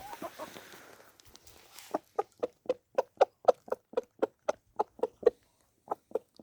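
Chickens feeding on sprouted wheat give a quick run of sharp, evenly spaced clucks or pecks close by, after a short stretch of softer rustling.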